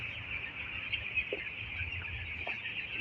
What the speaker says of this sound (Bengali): এগুলো হচ্ছে আমাদের নিউ হোপের মুরগি বাচ্চাগুলো